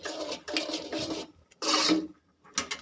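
A sesame sweet mixture is stirred in a hot pan, producing repeated gritty scraping and rubbing strokes in short bursts with brief pauses between them, heard close up with no talking.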